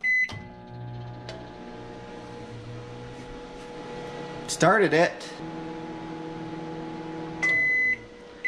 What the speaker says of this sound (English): the Siekon battery is able to run a microwave without tripping over current protection